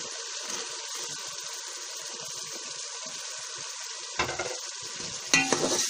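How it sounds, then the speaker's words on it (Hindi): Shelled peas, a kilo of them, fry in prepared masala, a close steady sizzle with a couple of louder stirring scrapes near the end. "अब इन मटरों को भूनेंगे"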